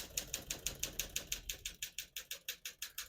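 Keys strike rapidly on a 1950 Smith-Corona Silent portable typewriter, a steady run of about twenty crisp, close mechanical clacks in even rhythm.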